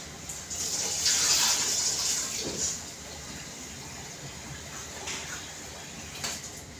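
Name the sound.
washing rice in water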